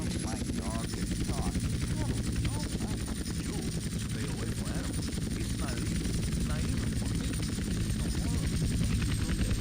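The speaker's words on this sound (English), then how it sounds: "And now land on the runway. So as long as helicopter is not too heavily damaged." A helicopter in the video game GTA San Andreas comes down to land on a runway, its rotor drumming loud and steady throughout while someone talks over it.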